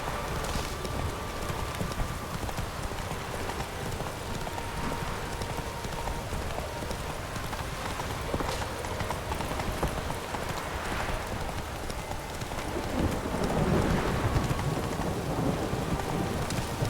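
Roach, the horse in The Witcher 3, gallops through a rainstorm, hooves clopping in a steady rhythm under heavy rain with rolls of thunder, all loud and close for the whole stretch.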